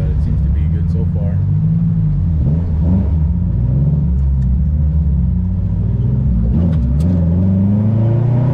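A turbocharged Honda Civic EG with an H2B engine idles with a deep, loud, steady rumble up close, slight rev changes, while people talk nearby.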